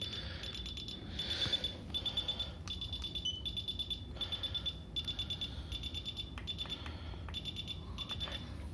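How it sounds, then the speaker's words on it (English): A laser distance meter gives faint, rapid, evenly spaced high electronic beeps in repeated bursts against a quiet room background. "I hear some beeping out of it."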